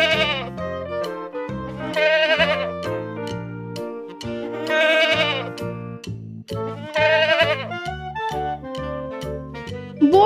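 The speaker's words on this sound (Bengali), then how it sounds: "ছয়ে ছাগল ছানা লাফিয়ে চলে।" A young goat kid bleats loudly and close, several wavering cries in a row with short gaps between them, clear and alone.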